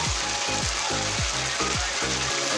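Turmeric and chili powder fry in oil for a papaya and small boal fish curry, a loud continuous sizzle broken by a rhythmic scraping clatter from stirring, repeating about every half second.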